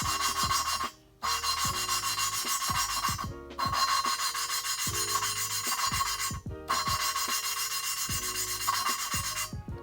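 Valves being lapped by hand into a Honda B17A1 VTEC cylinder head: rapid, loud back-and-forth gritty rasping that runs almost continuously, broken by a few brief pauses.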